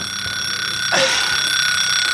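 Alarm clock ringing with a loud, steady, continuous electronic tone that holds without a break and swells slightly midway, close by and alone with no voices.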